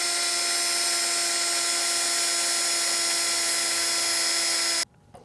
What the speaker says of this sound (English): we're drilling through 2 pieces of metal here